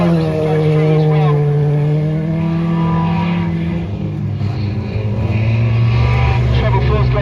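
Banger race cars roar through a corner at Smallfield Raceway, several engines droning loudly and continuously as they pass close by, with a commentator talking over them throughout.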